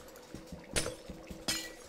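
In the Minecraft video game, blocks are broken in several quick crunchy, clinking hits, with two sharper, louder impacts standing out among lighter taps and no voices.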